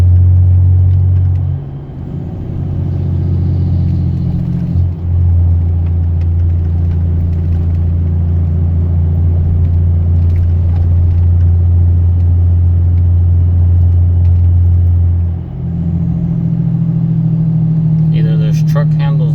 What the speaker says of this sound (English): You guys can see my turbo spooling